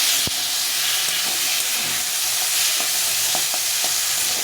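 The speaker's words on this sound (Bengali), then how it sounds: "এখন ছোলাটা দিয়ে দেবো ছোলাটাকে ছেঁকে রেখেছি দিয়ে দিয়ে এটা একটু নাড়াচাড়া করে" Boiled chickpeas stirred and fried in a pan, a loud continuous sizzle and hiss close up, broken by a sharp spoon knock and a few soft scraping stirs.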